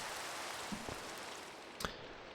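Steady hiss of rain falls in the SevTech Ages Minecraft modpack, an even wash of drops with a few faint soft taps.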